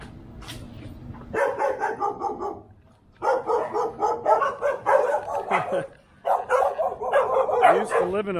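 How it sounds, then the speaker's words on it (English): Several dogs bark in repeated loud bursts near an apartment block on a military posting, the yips and barks coming in clusters with brief pauses between, alongside a voice. "There's dogs, so I'm gonna get out of here."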